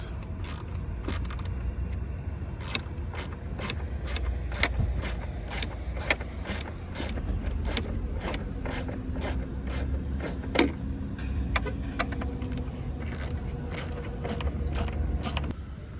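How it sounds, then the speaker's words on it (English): A ratchet with a T20 Torx bit backs out screws holding a rear light housing on a Ford Expedition, clicking rapidly in repeated runs with short pauses, close and steady, with no talking. "these two screws right here need to be removed. I've got a T20 bit"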